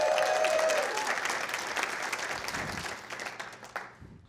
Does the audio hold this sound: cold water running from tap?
no